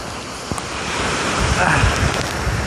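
Swift, deep river current rushes past near a waterfall, a loud, continuous close roar of churning water with wind buffeting the microphone and faint voices.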